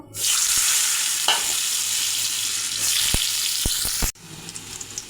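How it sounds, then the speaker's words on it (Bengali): Steamed potatoes fry in hot oil in a pan, giving a loud, steady sizzle with a few sharp knocks from stirring before the sound cuts off abruptly near the end. "আলুগুলো ভেজে নিয়েছি"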